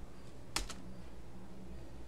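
A single sharp keypress, the Enter key on a computer keyboard, clicks with a quick double tap, then a quiet room follows.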